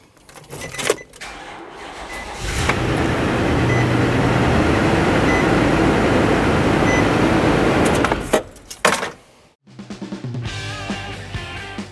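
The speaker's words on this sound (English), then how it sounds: "now's a good time to start the vehicle just to make sure your belt stays on all your pulleys" A Nissan NV2500 van's 5.6L V8 engine, with a newly installed alternator belt, rumbles up after some clicks and knocks, holds a loud, steady idle for about five seconds, then cuts off amid further mechanical rattling.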